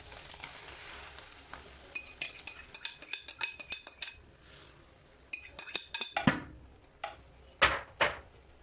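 Eggs added to a frying pan of golden sausages for an Antillean omelette: a soft sizzle under repeated clinks and scrapes of a utensil against the pan, growing into sharper taps and stirring.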